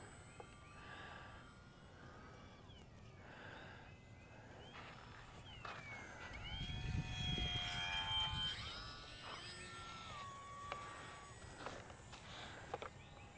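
A UMX Turbo Timber Evolution RC plane taxis with its motor at about 30% throttle, a faint whining hum whose pitch slides up and down and swells in the middle before settling.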